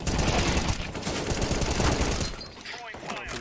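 Dense rapid gunfire from the video game CS:GO, a loud sustained volley of shots that thins out near the end, with a voice faintly underneath.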